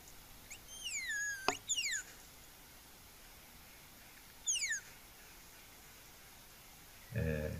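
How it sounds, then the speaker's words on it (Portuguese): A Brazilian tapir gives high, thin whistles that sweep downward in short bursts, a few calls spaced apart over faint background hiss, much like a bird's chirp. "O som que elas fazem, que elas produzem, é mais ou menos esse assobio, que parece um passarinho"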